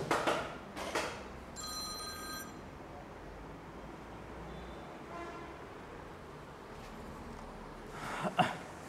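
A mobile phone rings in two bursts of electronic tones near the start, faint against a quiet background at a motorcycle sales showroom, then the room falls quiet apart from brief sounds at the end.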